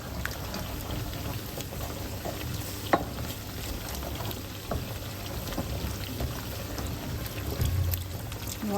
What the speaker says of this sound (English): To add creaminess to this, I'm also going to add coconut milk.